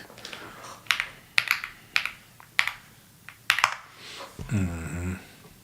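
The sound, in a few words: typing on a computer keyboard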